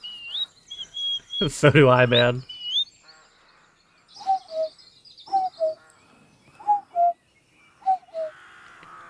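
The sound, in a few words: man imitating bird calls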